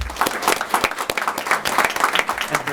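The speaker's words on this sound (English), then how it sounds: "I think she deserves a round of applause." An audience at a student of the month recognition bursts into short, lively applause, dense overlapping claps close by.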